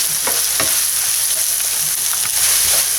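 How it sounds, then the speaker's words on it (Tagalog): Minced pork sautéing in a hot pan for Filipino relyenong bangus, with a steady loud sizzle of frying and intermittent scrape-and-stir clatter throughout, no voices. "igisa lang din natin to hanggang maging golden brown"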